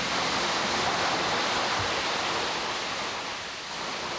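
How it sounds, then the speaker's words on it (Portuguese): Rushing water of a waterfall in the Atlantic Forest of São Paulo's Vale do Ribeira, a loud, steady broadband roar that holds constant throughout with no voices. "A força da água é assustadora."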